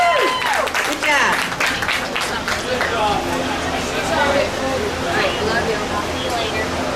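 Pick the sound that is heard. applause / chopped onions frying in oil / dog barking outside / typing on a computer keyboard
applause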